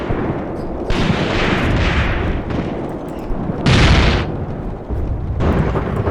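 Rifles and guns firing in a WW2 tank battle video game set in Tunisia in 1943, loud repeated bursts and booms in irregular clusters, dense and close, with no talk.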